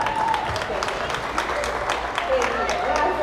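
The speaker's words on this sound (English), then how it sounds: "show of hands, round of applause," Concert audience at a tribute show breaking into a dense, steady round of applause and crowd noise, with a voice briefly heard over it.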